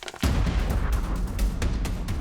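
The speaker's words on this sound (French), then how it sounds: "Le 8 mai 1902, à 8h02, là, tout change. C'est l'explosion." A volcanic explosion from the 1902 eruption at Saint-Pierre, Martinique, bursts in as a loud, dense roaring rumble with repeated sharp cracking blasts that continue without pause.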